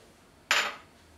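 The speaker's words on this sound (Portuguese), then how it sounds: "Vou colocar aqui o ovo." An egg goes into a blender jar as corn cake batter is started. A single sharp clink and thud sounds close by against a quiet room, then fades quickly.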